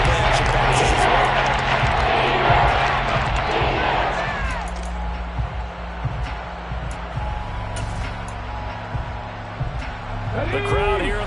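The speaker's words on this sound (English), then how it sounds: "The crowd here in the Dome making things difficult." A dense crowd roar fills a domed stadium in a football video game, loud and steady at first and then easing, with thumps and a few brief sharp sounds scattered through it.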